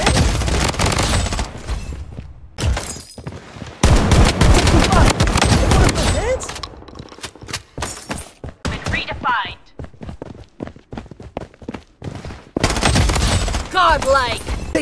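Rapid automatic gunfire in the shooter game Blood Strike, with dense bursts and single shots coming in waves over a steady battle din, and brief game voice callouts between the volleys.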